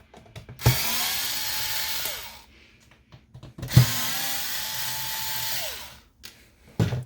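An electric screwdriver whirs through two separate runs of about one and a half seconds each, removing T10 screws from an Xbox One X, with small clicks between the runs and no talking.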